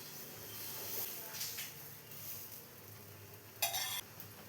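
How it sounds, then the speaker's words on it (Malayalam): Semolina and coconut dosa batter on a hot pan over low-to-medium flame, a faint quiet sizzle with a short brighter hiss and a few light utensil touches. "ഇപ്പോൾ ഒരു പാൻ വെച്ച് ചൂടായി വന്നിട്ടുണ്ട്. ഇതിലോട്ട് ബാറ്റർ ഒഴിച്ചു കൊടുക്കാം."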